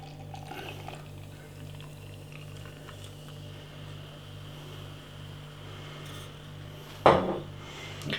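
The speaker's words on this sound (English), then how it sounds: "Let's get the beer out into a glass and see what we get." Imperial stout beer poured from a bottle into a glass, a short splashing burst near the end over a steady low hum, preceded by faint clinks.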